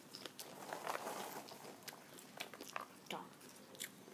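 Popcorn is crunched and chewed during a popcorn-eating challenge, with quiet, close, irregular bites and faint mouth sounds.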